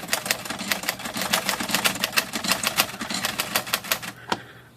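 Sterling Galaxie Classic electric typewriter typing at close range: a quick, fairly even run of crisp key strikes, ending with a single louder clack after a short pause.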